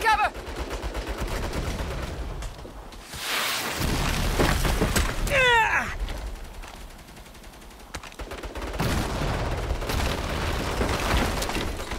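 Rapid turret gunfire in the Saints Row video game rattles in sustained bursts with booming impacts, loud and close, broken by a short lull before the shooting resumes.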